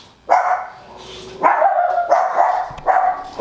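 Several dogs bark indoors in a house, giving three loud bursts of barking close by with short gaps between them and no talk over them.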